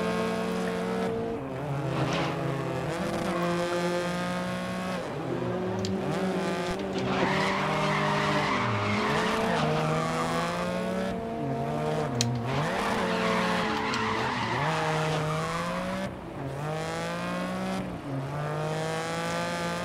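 Race cars in the video game GRID's hot hatch showdown skid and squeal their tires through corners over steady engine drone, with repeated rising and falling screeches and no talking.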